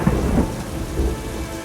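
Heavy rain pours down steadily in a forest while thunder rumbles low and loud underneath, a dense, continuous wash of storm noise with no voices.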